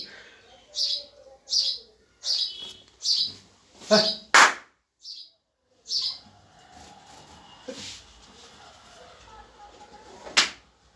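Bright chirps repeat in a loose rhythm, about eight short calls close by, followed by quieter scattered sounds and a faint sharp call near the end.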